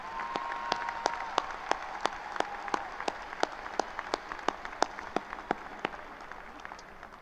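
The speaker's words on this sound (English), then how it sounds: "Let's give our speakers and our musicians a huge round of applause." A crowd at a high school graduation ceremony applauds speakers and musicians, steady dense clapping sustained throughout with sharp individual claps standing out, moderately loud and continuous.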